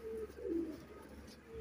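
A red pari pigeon gives soft, faint cooing notes near the start, low and murmuring against a quiet background with no voices.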